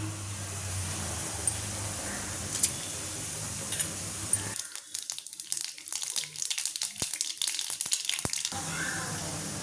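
Mustard seeds tempering in hot oil, a close hiss with faint background hum at first, then sharp crackling pops and spitting bursts scattered over the last half.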